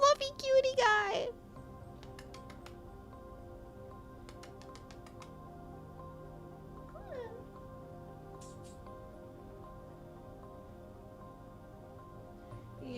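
A cat in the video game Night Call gives a short wavering meow right at the start, followed by a low steady background hum and a fainter cry partway through.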